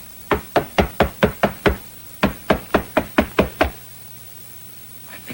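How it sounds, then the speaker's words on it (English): Knocking on a door in a 1937 film scene: two bursts of rapid, loud raps, about seven or eight each, separated by a short pause, close and alone with no voices. "I think I ought to knock louder."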